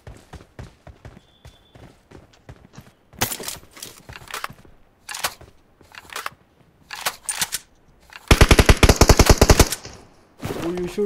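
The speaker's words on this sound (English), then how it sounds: "Shooting at you, Bodo." Gunfire in PUBG Mobile on the Erangel map: bursts of automatic rifle fire and single shots ring out in irregular volleys, ending in a loud rapid stream of close shots, with quiet footstep-like ticks between bursts.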